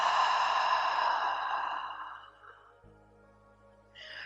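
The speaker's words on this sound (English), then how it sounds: "really noticing those muscles engaging in the back of the throat when you make" A long, audible exhaled 'ha' breath during yoga pranayama, a breathy sigh pushed from the back of the throat that slowly fades out. It ends in quiet, then a soft breath returns.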